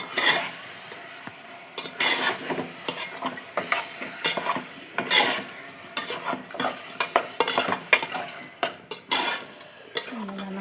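Boiled eggs are stirred in a pan with turmeric, salt and coriander leaves, with irregular scraping and clinking of a spoon against the pan over a soft sizzle, close up and busy throughout.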